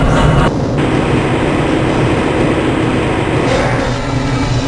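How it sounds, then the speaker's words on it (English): A moving train in the video game Half-Life: Blue Shift rumbles steadily and loudly with a continuous low roar, a brief shift at the start, and no talking throughout. "This train is inbound from the Area 8 topside dormitories to the Central Transit Hub in Area 9."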